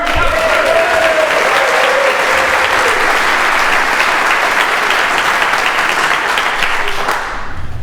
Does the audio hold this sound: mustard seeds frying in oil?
no